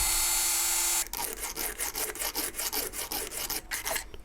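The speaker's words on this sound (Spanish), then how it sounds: "Ahora voy a tornear un poco con esta multiherramienta y con una lija de grano muy grueso." A rotary multitool spins very coarse sandpaper against a lock-pick handle made of printed circuit board, starting abruptly after a quiet hum, then rasping in repeated short close strokes with no talk.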